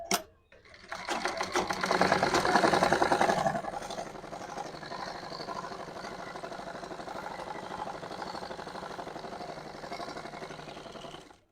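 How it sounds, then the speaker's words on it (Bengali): An electric sewing machine stitches trousers in a tailoring class, beginning with a loud, fast run of stitching, then settling into a quieter, steady rattling whir until it stops. "এবার উপর থেকে এই যে এখান থেকে চাপ সেলাইটা দিয়ে দেব।"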